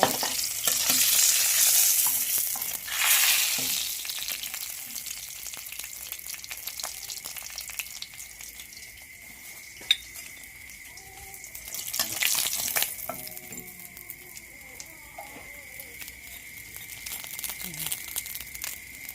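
Food deep-frying in hot oil until golden and crispy, a steady sizzling hiss with stirring and crinkling bursts, louder at the start and again near the middle, no voices.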